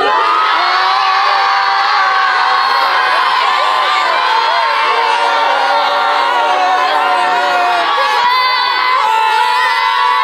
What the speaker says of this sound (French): Là, vous pouvez crier là.